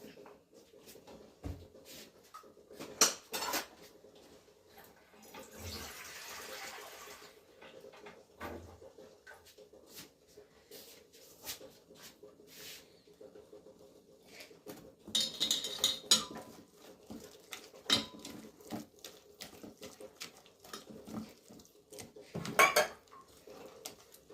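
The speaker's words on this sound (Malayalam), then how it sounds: "ഇതിൽ നമുക്ക് വെള്ളം ചേർത്ത് ഇതിനെ മിക്സ് ചെയ്തെടുക്കാം" Water is added to bajji batter and mixed in a bowl, heard as faint intermittent clinks, taps and wet stirring, with quiet gaps between bursts and no talking.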